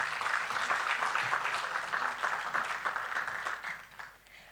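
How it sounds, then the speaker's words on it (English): A symposium audience at an academic conference claps for an introduced moderator, a moderate round of applause fading out over a few seconds. "please give them a big round of applause"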